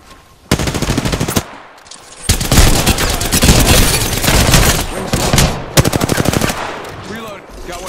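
Loud, close automatic gunfire in a battle royale video game, coming in rapid bursts separated by short pauses, with weapon rattles between them.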